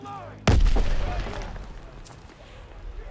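Grenade blast in Call of Duty: WWII, a sudden loud boom followed by a rumbling, fading tail with scattered gunfire-like cracks behind it.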